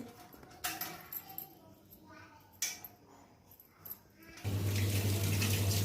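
Tap water runs steadily into a sink as brinjals are washed for bharit, a loud continuous rush starting abruptly after quieter clinks and handling noises.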